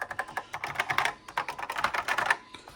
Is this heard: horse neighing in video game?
no